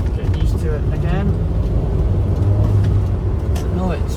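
A 1998 MGF sports car drives along with a low, steady engine drone and road rumble filling the cabin, while a person talks over it throughout.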